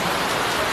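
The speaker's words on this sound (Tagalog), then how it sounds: "Ayun na, malakas na ulan." Heavy rain pours down in a dense, steady hiss, loud and close, with no breaks.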